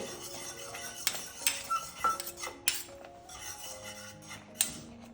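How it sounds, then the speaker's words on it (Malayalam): Whisk stirs rusk halwa mixture in a pan, producing quiet metallic clinks and scraping taps against the pan at irregular intervals. "അതുകൊണ്ട് നല്ല കട്ട കെട്ടാതെ വിസ്ക് ഇളക്കണം കേട്ടോ"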